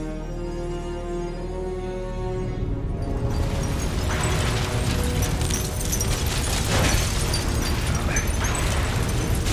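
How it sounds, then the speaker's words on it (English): Explosions and roaring fire in the Call of Duty: Black Ops Cold War video game on PS5, a dense, loud sustained rumble of blasts that swells after a quieter steady hum, continuing without a break. "All that fire, all that explosion."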